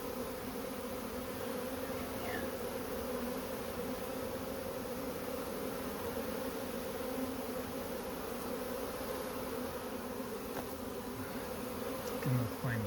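A swarm of bees buzzing around branches near a hive entrance, a dense continuous drone that stays steady and close for the whole stretch, no talk.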